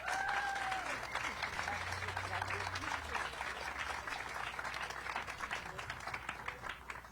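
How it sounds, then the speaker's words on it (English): Audience applause fills a ribbon-cutting ceremony for a family health and birth center, a dense wash of clapping with crowd murmur and a brief whistle early on. "Thank you so much. Round of applause."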